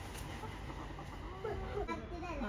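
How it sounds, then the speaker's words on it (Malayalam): Egg-laying hen clucking softly in a few short, rising calls at a house, faint and close, with voices nearby. "അമ്പിളിന്റെ കോഴി മുട്ടയിടുന്ന കോഴിയാണല്ലേ."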